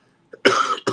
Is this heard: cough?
yes